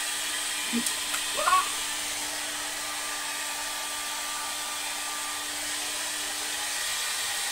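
A household hair dryer with adjustable speed runs continuously with an even, rushing hum, close and fairly loud, interrupted only by a couple of brief faint sounds near the beginning.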